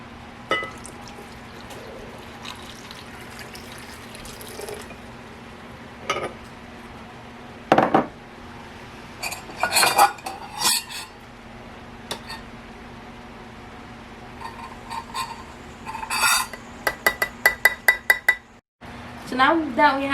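Ingredients such as sugar going into a blender while making strawberry ice pops: scattered clinks, taps and pours of utensils against the jug, a rapid run of small knocks near the end, under intermittent talking.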